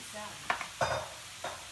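Mushrooms cook in a pan with a faint, even sizzle and three soft scraping stirs, quiet and close.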